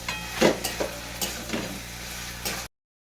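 Boiled chickpeas sautéing with a little salt in a pan give a close, soft sizzle, broken by a few sharper scraping stirs early on before the sound cuts off.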